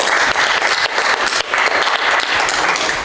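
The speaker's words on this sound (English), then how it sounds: "Yeah, a real round of applause." Sustained applause from a school board meeting audience fills the room, dense steady clapping from many hands at close range with no talk over it.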